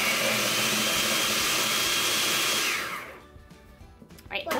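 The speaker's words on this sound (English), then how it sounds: "Now we're gonna blend it until everything is nice and smooth." A large food processor blends salted ingredients until smooth, a loud, steady whirring roar that runs for nearly three seconds and then cuts off, leaving faint clatter and handling sounds.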